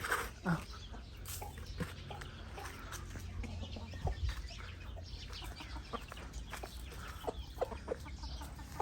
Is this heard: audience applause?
no